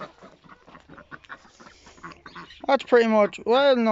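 Backyard ducks quacking loudly in a short burst of harsh, repeated calls near the end, after someone talks over softer background sounds.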